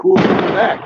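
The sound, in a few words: firework exploding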